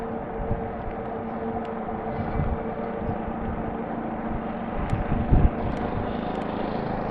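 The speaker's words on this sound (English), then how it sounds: "Oh, there's a generator, I heard that." A generator runs at a shaded campground of pull-through sites, giving a steady low mechanical drone with a constant hum throughout and a few faint brief clicks and knocks, with no voices.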